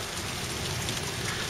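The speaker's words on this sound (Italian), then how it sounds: "Facciamo ancora un altro po' di pioggia sullo schermo." Artificial rain sprays water onto a Motorola Razr phone, making a steady, close hiss of spray and droplets with no voices.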